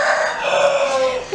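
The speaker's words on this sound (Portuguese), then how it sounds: "esse galo que tá cantando bonito aí é meu galo" A rooster crows loudly and close by, one long sustained cock-a-doodle-doo filling the moment with no talk over it.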